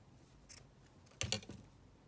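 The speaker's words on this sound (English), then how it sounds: "So just going to cut this little fabric ruffle down." Scissors cut a small fabric ruffle in two brief bursts of snipping, the second a quick cluster of crisp cuts, close and fairly quiet against a near-silent room.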